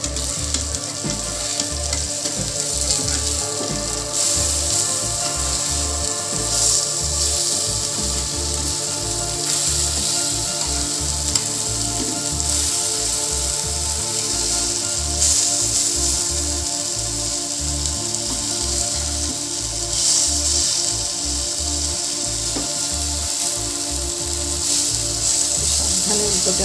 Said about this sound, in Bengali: খুব একটা তেল লাগে না ভাজতে, শ্যালো ফ্রাই হয়।